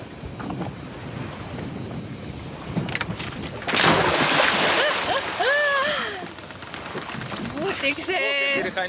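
A dog dives into dark seawater at Vourvourou, making one loud, broad splash midway through, with wind buffeting the microphone and people talking around it.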